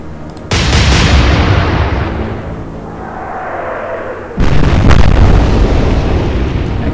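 Warship guns thunder in the naval strategy game Atlantic Fleet, two heavy, loud salvos a few seconds apart, each a deep blast trailing into a long rumbling roar, with no talking.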